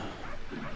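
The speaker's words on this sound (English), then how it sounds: "Sorry, barking dogs." Dogs bark and yip faintly in the background during a brief moment with a muffled, noisy room tone.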